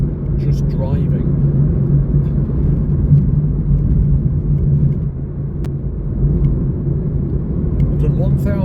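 A car drives along a road near Sugarloaf on the Great Ocean Road route in Australia, giving a steady, loud low rumble of engine and tyres that holds unbroken from start to end.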